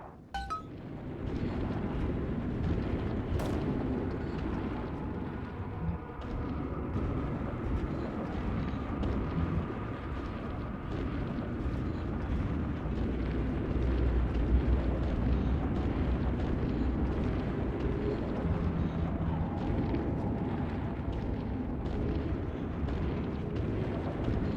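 A sustained deep rumbling roar of bomb explosions in Bioshock 2 runs throughout, loud and continuous with faint clinking debris and a few sharp transient cracks.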